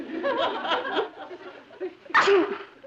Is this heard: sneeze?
yes